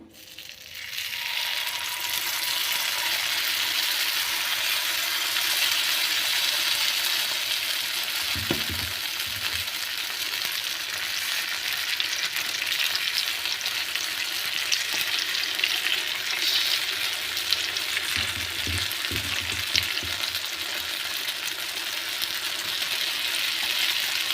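Paddu batter poured into a hot paddu pan crackles with a loud, unbroken sizzle that holds steady throughout, broken by a couple of brief low knocks of the pan.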